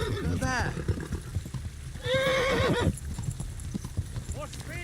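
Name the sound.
horse cantering in video game Kingdom Come: Deliverance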